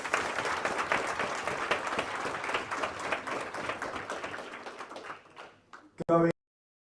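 Applause ripples through a charity gala audience after a water well is auctioned, a dense burst of clapping that thins out and stops, followed by a couple of sharp knocks near the end.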